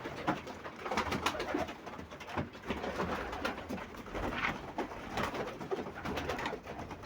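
Carrier pigeons kept for sale coo while feeding in a loft, giving a continuous soft murmur of overlapping calls with faint pecking and rustling and no talking.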